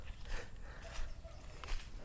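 Outdoors in a rice field, a dog digs in the ground and gives a few short barks about every second or so, mixed with rustling and scraping against a broad, noisy background.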